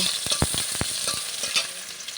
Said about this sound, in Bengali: ভালো করে নেড়ে নিতে হবে তাই নেড়ে নিচ্ছি